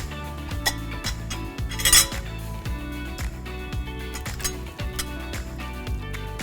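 Utensils clinking and scraping against a serving bowl while scrambled eggs are served, a steady run of light metallic clinks over rhythmic background music.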